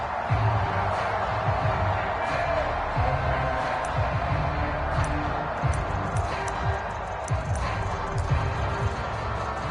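A football stadium crowd roars steadily throughout early in an NFL game between the Broncos and a team led by Goff, with a commentator's voice over the dense, continuous cheering.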